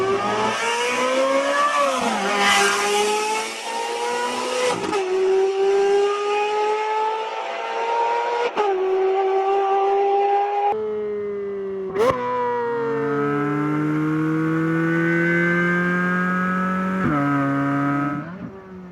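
The flat-plane LT6 V8 of a Chevrolet Corvette C8 Z06 pulls up through the gears, rising to a high-pitched wail with several sharp upshifts between climbing revs, loud and close.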